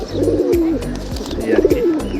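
Jabra Afsan pigeons in a loft give repeated throaty coos, two rising-and-falling calls close by and fairly loud, with steady low rumbling between them.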